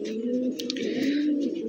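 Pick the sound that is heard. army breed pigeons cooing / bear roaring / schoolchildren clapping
army breed pigeons cooing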